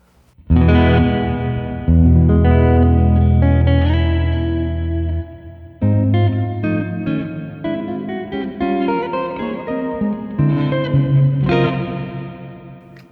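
Distorted electric guitar chords played through a plate reverb pedal ring out with a wide, lush reverb tail, sustaining and blending between strums over several bars.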